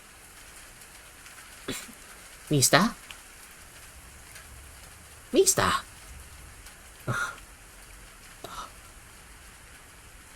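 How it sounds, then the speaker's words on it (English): Steady rain falls throughout a scene in the Ayakashi Akashi visual novel, a soft continuous hiss. Brief spoken lines interrupt it several times. "as the sound of rain only got louder"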